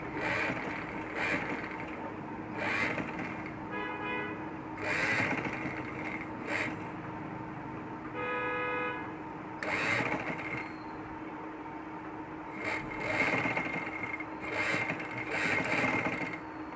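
A sewing machine stitches a baby frock in several short bursts of rapid mechanical whirring, separated by brief pauses and clicks, close and fairly loud.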